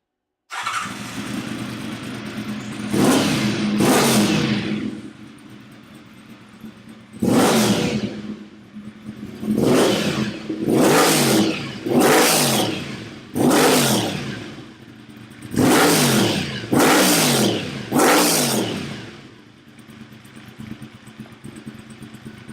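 A 1986 Honda VFR750 motorcycle fitted with a Hindle exhaust starts and idles, then is revved hard about ten times in quick throttle blips, each a loud rising and falling roar before settling back to a rumbling idle.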